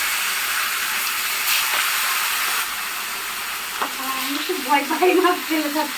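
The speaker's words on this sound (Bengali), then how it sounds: "এখন মাছটা ভালো করে ভেজে তুলে নেবো।" Rupchanda (pomfret) rubbed with salt and turmeric fries in hot oil, sending out a loud, continuous sizzle with a few bubbling bursts near the end.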